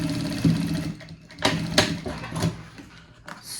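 A sewing machine stitches along the edge of fabric for a handkerchief-style bag lining in short bursts, a quick mechanical whir broken by sharper clicks and pauses, fairly close and at moderate volume.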